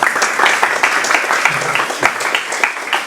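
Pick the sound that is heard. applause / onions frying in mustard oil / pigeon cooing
applause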